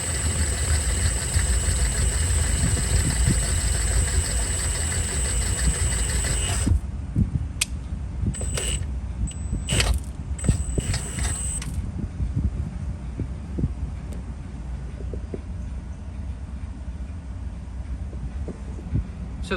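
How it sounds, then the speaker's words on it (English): A drill turning at slow speed enlarges an existing hole for a jack nut on a Honda S2000 in a workshop, giving a steady low mechanical whir for the first several seconds before it drops to quieter, intermittent grinding bursts. "So let's go ahead and get that drilled out."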